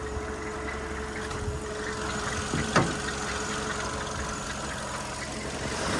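A 2012 Skoda Octavia 1.6 petrol engine idling with the hood open, a steady low hum heard up close with one short knock partway through and no talk.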